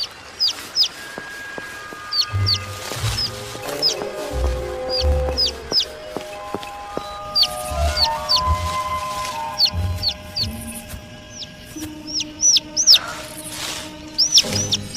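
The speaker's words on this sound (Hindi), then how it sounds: "ओह, एक नन्हा सा पंछी।" A small cartoon bird chirps in a repeated, high, rapid peep pattern, close and clear, over soft background music and occasional low thumps.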